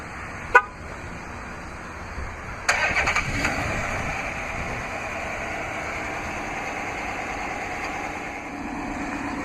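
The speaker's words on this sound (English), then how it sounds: "this vehicle is equipped with remote start. To operate is easy. Just double press the remote start button on the key fob." A 2012 Chrysler 300C starts up by remote start: a brief sharp chirp, then a couple of seconds later the engine cranks and catches, settling into a steady idle hum nearby with no talking.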